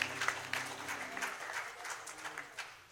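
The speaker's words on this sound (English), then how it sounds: "give the Lord a hand clap of praise this morning." A church congregation at a Sunday morning worship service claps in praise, a scattered, moderately faint round of hand claps. A sustained musical tone fades beneath it at the start.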